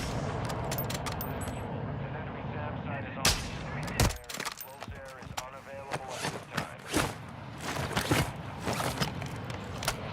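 Mortar strike and gunfire in Call of Duty DMZ, several sharp booming impacts and crackling shots scattered across the clip, fairly close, mixed with low background game noise.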